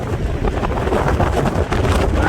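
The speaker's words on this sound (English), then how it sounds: "I bet this is gonna sound bad, this bluster" Wind blusters steadily into a microphone near Niagara Falls, a loud, continuous rumbling buffet with no voices.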